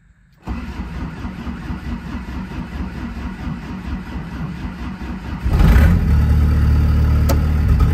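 A diesel car engine, fired after glow-plug preheating, catches with a sudden start and settles into a loud, steady idle, then rises to a higher, rougher idle near the end; close and with no voices.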